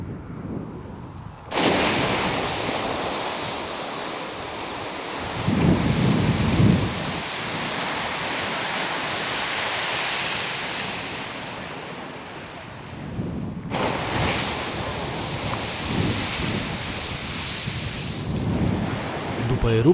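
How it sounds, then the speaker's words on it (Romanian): A geyser erupting in Iceland, a sustained roaring rush of water and steam that surges loudly for over ten seconds, breaks briefly, then gushes again, with wind buffeting the microphone throughout. "Acesta e cel mai vechi și mai cunoscut geyser din lume."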